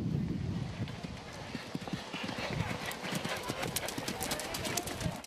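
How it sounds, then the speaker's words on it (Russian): Horse hooves clip-clop in a steady, busy rhythm at a show jumping competition with riders from equestrian clubs, heard under loud talk and crowd noise throughout. "Этот момент, когда лошадь элегантно перепрыгивает через барьер высотой почти в метр"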